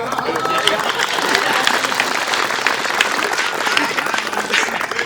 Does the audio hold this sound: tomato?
no